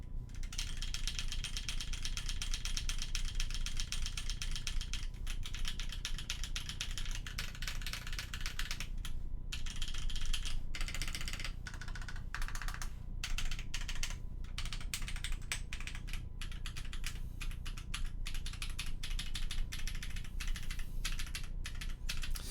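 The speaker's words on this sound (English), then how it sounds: "Rate out of 10 what you think the typing sound is." Steady, loud, close typing on an SKB65 custom mechanical keyboard, a continuous stream of rapid clacky keystrokes with brief pauses, and no talking over it.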